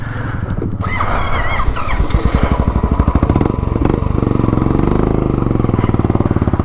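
Motorbike engine revving steadily and loudly as it rides across wet desert sand on a camping trip, a continuous close drone with rising throttle pulses and no talk.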